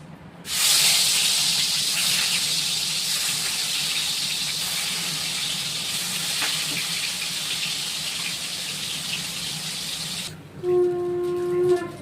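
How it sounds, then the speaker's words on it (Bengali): Steady, loud broadband sizzling and hissing of catla fish frying in hot oil runs for about ten seconds, then stops, followed by a brief clinking tonal sound. "মাছ ভাজা হয়ে গেছে।"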